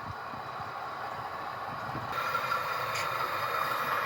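An HO scale model Amtrak train rolls along a layout, giving a steady low rumble and rattle of small wheels on track with a faint brief squeal, continuous and fairly close with no talk.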